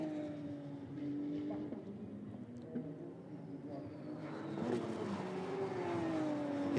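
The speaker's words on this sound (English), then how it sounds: "The two McLarens, the two Porsches running interspersed with each other." GT race cars, McLarens and Porsches, running close together at Paul Ricard, their engine notes sweeping and shifting under a steady roar of passing traffic that swells toward the end.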